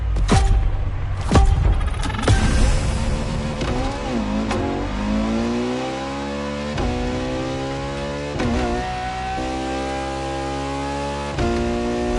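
A Ferrari LaFerrari hybrid V12 supercar revs in repeated bursts, pitch rising and falling, then settles into a long steady climbing drone, loud and close, with no voices.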